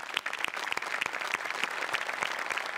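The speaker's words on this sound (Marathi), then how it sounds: "त्यांच्यासाठी एकदा जोरदार टाळ्या." An audience breaks into applause, a dense patter of many hands clapping at a steady level for a few seconds, with no speech over it.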